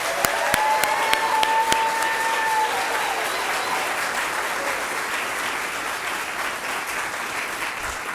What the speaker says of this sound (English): So I want you to practice your applause in salute to Ken.